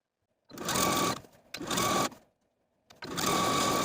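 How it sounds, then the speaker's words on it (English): A sewing machine edge stitches near a skirt's upper fold in three steady bursts of rapid stitching, separated by short pauses, close and fairly loud. "I'm going to take it to my sewing machine and edge stitch close to this upper fold"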